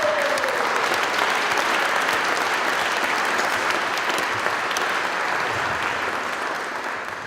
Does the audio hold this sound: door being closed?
no